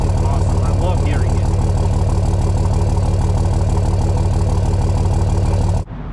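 A deep, rumbling Dodge Ram 2500 with a 5.9 Cummins diesel and 4-inch MBRP exhaust idling loudly and steadily, with a throbbing low exhaust note that cuts off abruptly near the end.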